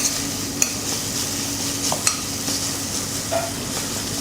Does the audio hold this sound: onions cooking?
yes